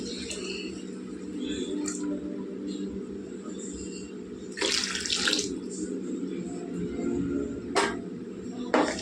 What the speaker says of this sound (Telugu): ఇప్పుడు మనం ఇందులో తగిన నీళ్ళు వేసుకుందామండి.